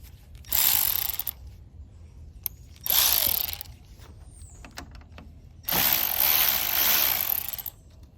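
Screws on a Lexus/Camry throttle body being loosened with a number 10 socket or Phillips screwdriver, heard as three bursts of close ratcheting clicks separated by short pauses, the last one longest, with no talking.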